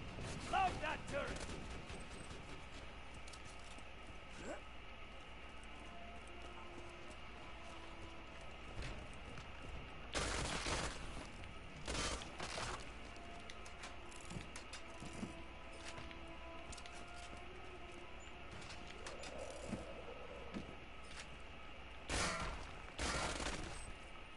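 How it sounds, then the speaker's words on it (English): Sentry turret firing in Borderlands 2, short clustered bursts of gunfire around ten to thirteen seconds and again near twenty-three seconds over a quiet game background, with a voice speaking in between. "Turret deployed. Another sentry kill."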